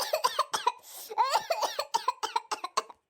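A woman coughs repeatedly in a rapid series of harsh, close bursts, with a short breathy gap near the start, the coughs fading out at the end.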